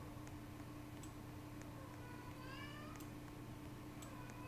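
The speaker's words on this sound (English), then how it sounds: "don't mind if you hear a very dramatic little cat in the background" A house cat meows faintly in the background. There are a couple of soft rising cries around the middle, over steady low hum and faint ticking.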